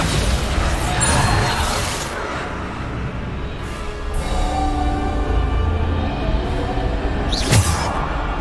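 Bombarda spell explosion in Hogwarts Legacy, a wizarding video game: a dense, continuous rumble of blasts and crashing debris that swells midway, ending with a sharp pop near the close.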